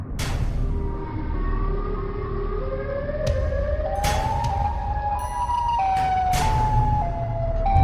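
Siren Head wailing in a horror video game: long, rising electronic siren tones with sharp bursts, loud and unbroken, without speech.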